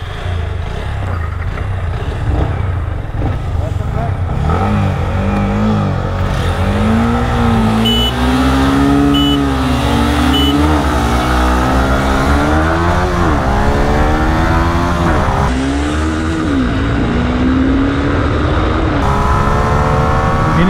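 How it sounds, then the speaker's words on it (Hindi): Yamaha MT-15 BS6 and Honda Hornet 2.0 motorcycles racing side by side on an open road, engines droning loud and steady with rising and falling revs through gear changes and constant wind rush. "अभी मैं चलाने जा रहा हूँ एमटी BS6 MD15 और रोड फाल्कन चलाने जा रहे हैं हमारे अभिषेक भाई हॉर्नेट"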